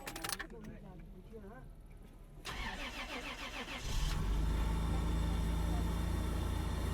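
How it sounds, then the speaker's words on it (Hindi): A car engine cranks and catches at about four seconds, then settles into a loud, steady idle as it warms up on a snowy day in Hunza Valley, Pakistan. Voices talk over the quieter stretch before the engine starts. "इंजन को गर्म होने देते हैं, ताकि पानी की सर्कुलेशन ठीक हो जाए"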